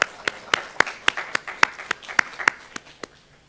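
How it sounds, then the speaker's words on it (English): A small group claps at a student government meeting, about a dozen sharp, distinct claps spaced in a loose steady rhythm, nearby and fairly loud, tapering off at the end with no talking over it. "Let's give him a round of applause."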